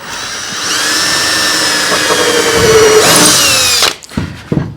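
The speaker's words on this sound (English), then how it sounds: "This way we have room for the screwdriver." A power screwdriver whines steadily for about four seconds, driving a screw into a wooden cleat on a Greene and Greene style wooden garden gate; the pitch strains higher near the end before it stops, followed by a few short knocks.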